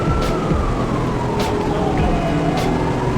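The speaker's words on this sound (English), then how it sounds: "Water release siren just went off" A long wailing dam water-release siren drones steadily in the background on the Chattooga River, its pitch sliding slowly, with a few brief clicks on top.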